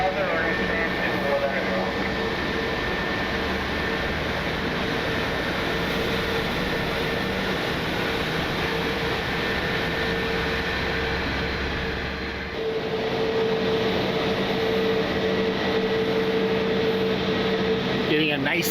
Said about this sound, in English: Let you hear the engines fire up on the 321.